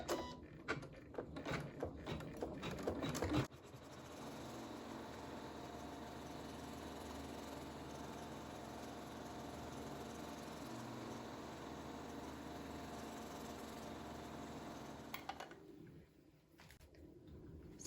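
Embroidery machine stitching a tack-down line over napkin applique fabric on a placement stitch: a steady, faint mechanical whirring hum running alone for most of the stretch after a few seconds of clattering handling noise, then stopping near the end.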